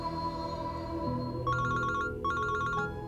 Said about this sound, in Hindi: जोया का फोन।